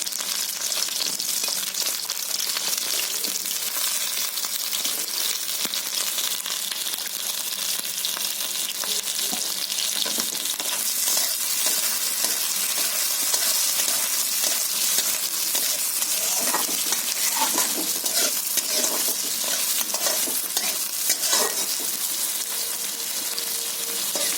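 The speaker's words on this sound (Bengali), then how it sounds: "বেগুনগুলো ভেজে নিচ্ছি" Eggplant pieces fry in oil in a wok, giving a steady, dense sizzle that crackles close by without pause throughout, with occasional brighter pops and stirring noises and no talking.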